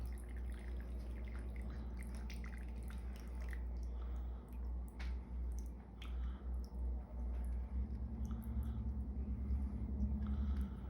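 Supersaturated sodium acetate solution is poured out, a faint, close trickle with soft drips and squishy liquid sounds over a steady low hum.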